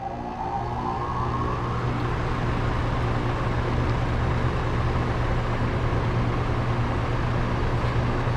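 A newly installed motor in a car project spins at full speed, giving a steady, close whir and hum with a brief rising whine at the start, and no voices.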